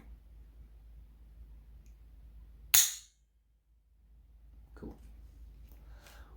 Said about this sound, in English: Now we're going to turn the safety off or put it in the fire position and make sure that it does work.